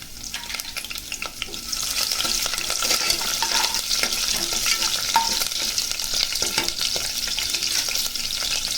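Curry leaves and green chillies frying in hot oil with spices for paneer matar pulao, giving a loud, dense, crackling sizzle with scattered sharp pops throughout, up close.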